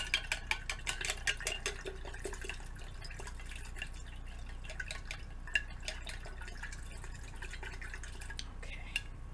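A paintbrush swished and rinsed in a water cup while painting a sunset, with continuous close dripping, sloshing and tapping against the container, busy and fairly quiet throughout.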